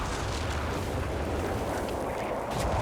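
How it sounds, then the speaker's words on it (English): Mortar fire in the real-time strategy game Company of Heroes 3 during a 4v4 tank battle, a steady, heavy rumble of booming blasts and explosions that runs loud and unbroken throughout. "Just a bit of mortar v mortar."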